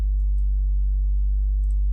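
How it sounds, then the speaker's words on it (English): A steady, droning sub-bass sine tone with slight distortion, constant and unbroken throughout, with faint clicks near the start and end. "Just a sine wave with some distortion"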